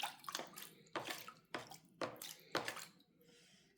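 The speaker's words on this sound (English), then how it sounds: "So I will create the waves now." Water sloshing in a small mangrove flood model as waves are pushed toward a model town, several distinct splashing surges in an uneven rhythm, close and fairly quiet.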